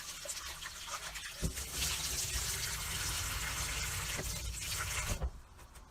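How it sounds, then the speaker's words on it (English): Shredded potatoes are rinsed in water, giving a continuous sloshing, splashing wash with a few soft knocks. The sound is faint and close, with no talk. "we're going to wash it twice with water"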